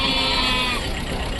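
A goat bleats at a livestock market as one sustained, wavering cry, loud and close, set against a dense, noisy crowd background.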